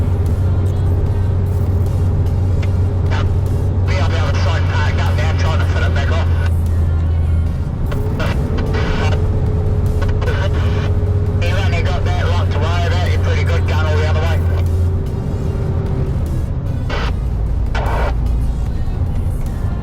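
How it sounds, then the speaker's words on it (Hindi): Heavy truck on the highway between Christchurch and Picton in New Zealand, engine braking with a steady low drone and sustained whine, loud and close from the cab, someone talking over it at times. "अभी इंजन ब्रेक पे चल रहा है पूरा ट्रक।"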